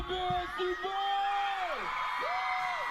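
A festival crowd at a live pop concert screams loudly and continuously, with long rising and falling shrieks and yells layered over a dense roar of cheering throughout.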